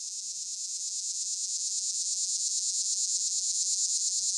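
An insect call, a steady high buzz that shifts into a pulsing vibrato, holds alone and continuous at moderate level throughout, with only faint low rumbles beneath.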